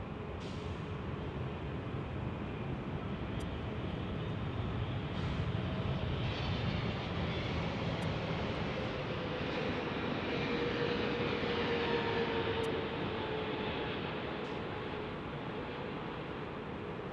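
A Philippine Airlines jet at Los Angeles International Airport gives a steady, fairly distant roar of engines that holds for the whole stretch, with faint brief clicks now and then.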